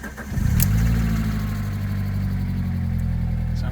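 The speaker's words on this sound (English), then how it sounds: "at least the car's together enough that it starts again now" A 2.0 Twin Spark engine in an Alfa Romeo 147, with its alternator newly fitted and no auxiliary belt on, cranks briefly and catches, then settles into a steady close idle.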